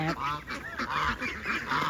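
A flock of Lionhead geese honks continuously and loudly close by, overlapping calls layered on a steady background hum.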